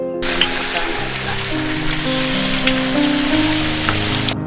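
Steady rain falls on a surface as a dense, continuous hiss, fairly loud and close, with a low rumble beneath and no talk.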